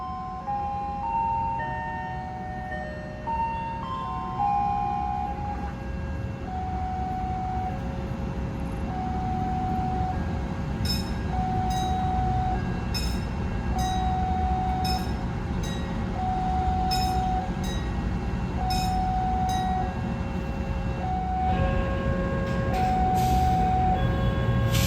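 A KRL commuter train on the Surabaya–Sidoarjo line runs steadily with a low rolling rumble, while a repeating high melodic chime or beep tone plays at intervals over it and short sharp clicks come near the end.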